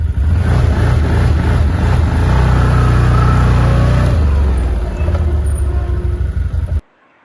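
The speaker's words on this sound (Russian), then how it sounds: "Поднимаются обороты и снова падают, поднимаются и падают." ODES Pathcross 650 ATV engine revving up and dropping back repeatedly, a loud close rising-and-falling drone that surges and sags, with RPM lag, before cutting off abruptly near the end.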